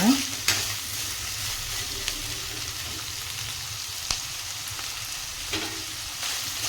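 Cauliflower pieces frying in hot oil, a constant hiss and sizzle close up, with an occasional utensil tap as they are stirred and no voices.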